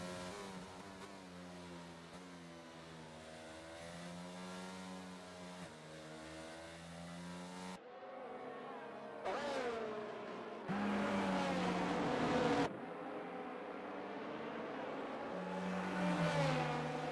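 Race cars from a racing video game, the Saudi Arabia GP, bunching up behind a safety car, engines droning and revving loudly with shifting pitch and a few sharp cuts, no voices over them.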